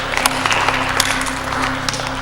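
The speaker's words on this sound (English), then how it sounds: "Applaud him!" Scattered applause from a small gathering, uneven clapping with a few sharp individual claps standing out over a low hum, moderately loud and brief.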